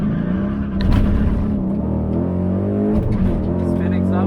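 A race car accelerates hard down a quarter-mile drag strip at night, its engine roaring loud and close with rising pitch, under someone talking.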